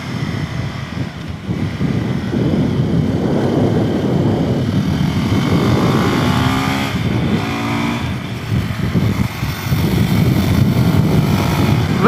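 A Sherco 500 SM Factory motorcycle rides a kart track, its single-cylinder engine loud and close, rising and falling through gear changes with continuous rough exhaust roar, no talk.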